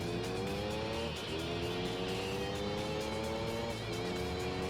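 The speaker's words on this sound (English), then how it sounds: "Why did they go with that engine sound effect for this one?" Engine of the LMP Dragon race car in Gran Turismo 3, a steady high-revving drone that climbs in pitch, drops briefly twice as gears shift, then climbs again, loud and continuous with no talk.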